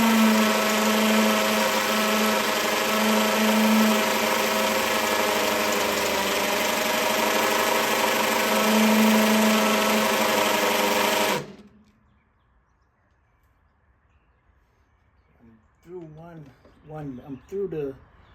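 A power drill bores a hole through a mower's broken handle mount, a loud steady whine for about eleven seconds that stops abruptly, followed by quiet and a few faint clatters.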